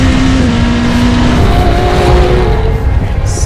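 Endurance race cars in the European Le Mans Series roar loudly on track, one engine tone fading away as others rise and sweep past close by, a continuous dense racing noise with no talking.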